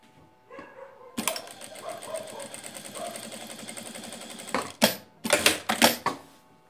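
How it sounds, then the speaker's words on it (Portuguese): A sewing machine runs a short three-stitch seam on a small coin purse, a fast steady whir of needle strokes that stops, followed by a few sharp bursts of handling noise, heard up close. "Fazer uma costurinha de três pontos aqui."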